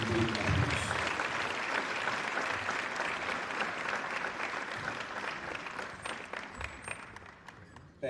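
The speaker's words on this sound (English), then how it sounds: "Let's give him a big applause." An audience applauds as the Chief Minister is invited to the stage at a formal event, a broad continuous roar of many hands clapping that gradually thins and fades toward the end.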